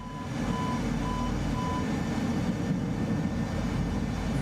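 Throttled-down F-14 jet in MSFS 2024, a steady broadband roar with low rumble holding at even loudness, plus a faint repeating beep early on.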